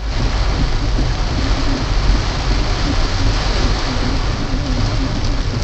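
Rain recorded by a 70Mai Dashcam 1S, a loud, continuous hiss of falling rain with steady low rumble throughout, no pauses.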